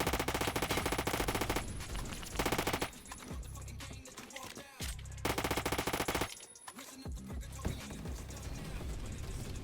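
An HK gun fires in a Roblox shooter in loud, rapid automatic bursts with short breaks between them, close up, with faint speech in places.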